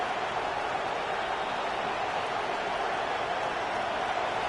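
Stadium crowd at a Texas versus Florida State college football game roars steadily in the red zone, a continuous broad wash of cheering and noise with no breaks.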